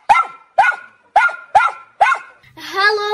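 A dog in the animated series Mach a Šebestová gives five sharp, evenly spaced barks, close and loud, followed by a drawn-out tonal vocal whine.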